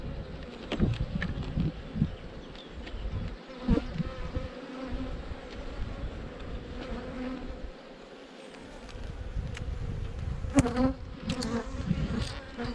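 Honey bees in an open hive buzz continuously and fairly loud during an inspection, a dense drone with individual bees passing close to the microphone, no voices heard.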